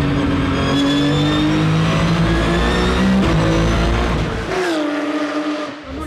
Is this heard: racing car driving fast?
yes